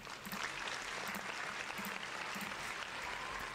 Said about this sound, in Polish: Chyba zasłużone brawa, co?